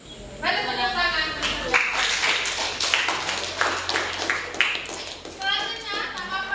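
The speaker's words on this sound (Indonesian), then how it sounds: "Baik, tepuk tangan." A classroom of students claps hands together in a burst of applause, a dense patter of claps lasting several seconds at moderate distance, with a few voices mixed in.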